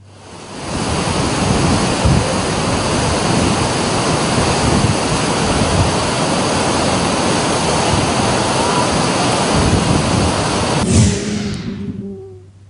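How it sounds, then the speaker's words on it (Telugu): Floodwater released through opened dam gates roars as a dense, continuous rush for about eleven seconds, loud and steady, then cuts off abruptly near the end. No speech. "గేట్లను ఎత్తివేసి నీటిని దిగువకు వదులుతూ ఉన్నారు"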